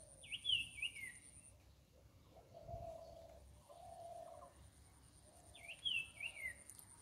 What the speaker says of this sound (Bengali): আশেপাশেও কিছু পাখি ডাকছে